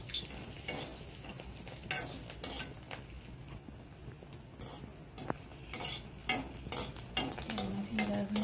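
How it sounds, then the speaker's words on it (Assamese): Food sizzles in a pan while a utensil repeatedly scrapes and clinks against it, stirring in uneven strokes, close up. "ভাজি লওঁ"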